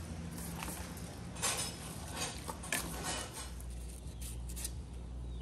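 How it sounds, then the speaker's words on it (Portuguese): Chives being chopped with a knife in an outdoor farm kitchen, a run of quick, light knife taps on a board with a few sharper clinks, fairly close over steady background noise and a low hum. "Picando aqui a cebolinha."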